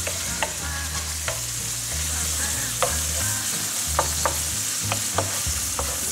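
Morel mushrooms cook in a pan with chives, producing a low, steady frying hiss punctuated by spaced utensil clicks and scrapes, close by, with gentle music running underneath.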